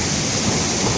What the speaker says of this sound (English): That's all hail.